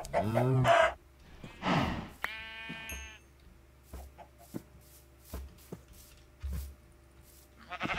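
Several Minecraft chicken clucks and bleat-like animal calls come in short bursts, some loud and close, separated by faint clicks and quiet gaps.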